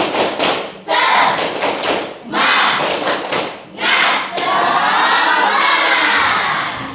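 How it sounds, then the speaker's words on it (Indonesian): A school class does a rhythmic spirit clap, loud bursts of patterned claps and thumps broken by brief pauses, ending in a sustained burst of children shouting and cheering. "Tepuk semangat"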